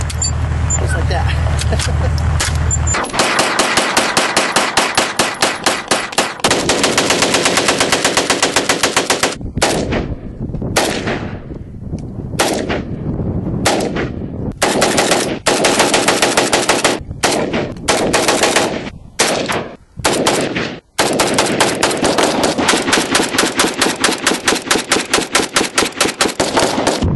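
An AK-47 rifle fires long, loud, rapid bursts, the stream of rounds pausing briefly several times before resuming, with voices heard amid the shooting.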